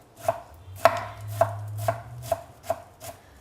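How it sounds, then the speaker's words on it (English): A big knife chops ingredients for tabbouleh on a board: about seven crisp, evenly spaced strikes, close and clear over a low steady hum. "The only thing that takes long with the tabbouleh is the chopping up."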